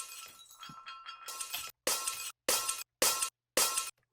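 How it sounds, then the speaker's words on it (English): Glass breaking Foley effect: an initial shattering crash with scattered tinkling shards, followed by four sharp, evenly spaced bright glass hits cut off cleanly between each, with no voices. "One that I quite like is glass breaking."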